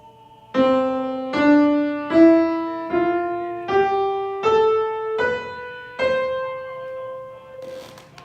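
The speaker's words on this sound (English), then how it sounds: "A musical scale can sound something like this." Eight plucked or struck tones step upward one after another at an even pace, a rising musical scale played clearly with no voices.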